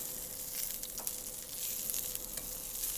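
Ceps mushrooms frying in olive oil in a pan, a steady close hiss and sizzle with faint crackles and an occasional stir, no voices.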